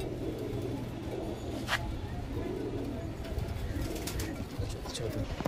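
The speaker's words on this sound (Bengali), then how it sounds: "বন্ধুরা এগুলো এই পায়রাটা একটু ছেড়ে দেখাচ্ছে," Pigeons in a loft coo in low, repeated rumbling calls close by, with a little shuffling and faint voices in the background.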